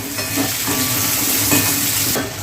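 Garlic and green chilies fry in hot oil in a pan, giving a loud, steady sizzle and crackle with stirring scrapes throughout, close and continuous, with no voices.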